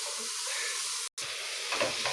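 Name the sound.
something frying in a pan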